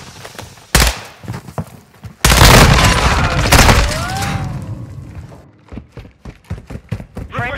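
Rapid gunfire bursts and heavy thuds from a Call of Duty Modern Warfare 2 multiplayer match, loud and close, with shouted voices over the combat.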